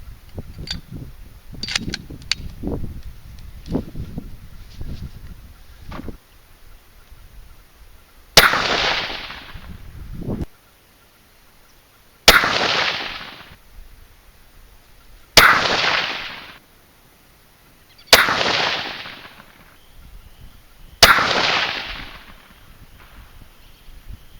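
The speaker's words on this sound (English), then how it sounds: "Shooting 100 yards today." A 6.5 Creedmoor rifle fires 140-grain ELD bullets at a 100-yard outdoor range on a cool, slightly breezy day: five loud, sharp cracks a few seconds apart, each with a short decaying echo, after some faint earlier handling clicks.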